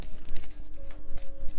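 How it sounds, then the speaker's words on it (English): Tarot cards shuffled by hand during a reading, soft papery riffles and slides repeating in short bursts, close and moderately quiet, with a faint steady tone in the background. "While I was shuffling"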